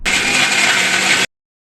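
A mixer grinder whirs loudly and steadily as it coarsely grinds cooled gongura leaves with red chillies and salt, running for just over a second before cutting off abruptly.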